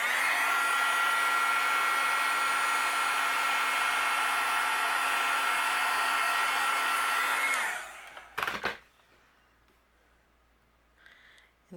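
A heat tool blows a steady, loud whirring hiss for about eight seconds while melting clear embossing powder over a card's leaves, then cuts off abruptly, leaving a few clicks and a quiet room.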